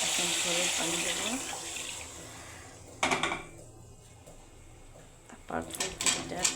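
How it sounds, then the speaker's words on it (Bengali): Water pours into a pan of spiced fish for curry gravy, a splashing rush near the start followed by clatters of utensils and a pot, with a voice talking intermittently. "এখন ঝোলের পানি দেবো।"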